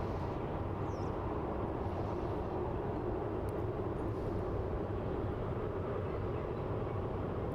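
Fiji Airways flight FJ935 from Nadi arriving at Melbourne Airport, a steady broadband jet roar heard from a distance, continuous and even throughout with no talk.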